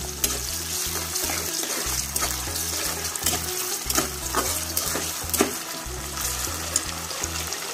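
Shrimp fry in a pan with onion and garlic for a Bangladeshi home-cooked dish, giving a steady close sizzle with stirring scrapes and clinks throughout and no voices.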